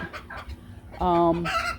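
Chickens near a chicken coop cluck in short bursts on a cold, damp morning, with one louder, drawn-out squawk in the middle, close by and without talk.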